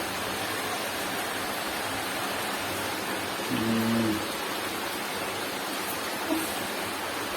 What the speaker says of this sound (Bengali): বৃষ্টিটা ওইদিকে হাওয়াটা ঘুরে গেছে